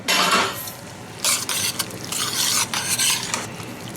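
Vegetables with scallions and bok choy are stirred in a hot pan, giving loud, close bursts of sizzling and scraping in uneven waves over a continuous frying hiss.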